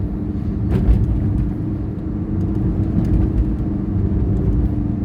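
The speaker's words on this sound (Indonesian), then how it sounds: "Seperti kita lihat banyak sekali truk-truk pengangkut CPO minyak sawit." Trucks carrying crude palm oil drive along a road between Pemuar and Sintang, a steady low engine and road drone that stays loud and constant throughout, with no talk.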